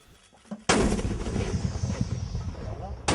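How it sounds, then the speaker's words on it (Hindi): Heavy gunfire across the border: a sudden loud burst of firing erupts after a brief quiet start, then rumbles and echoes steadily before another sharp blast at the end. "बॉर्डर पार से हेवी फायरिंग ये भी विकल्प है"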